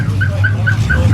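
Car alarms at a hi-performance swap meet and car show blare loudly and close, a repeating chirping whoop pulsing in a quick steady rhythm over a low engine-like drone.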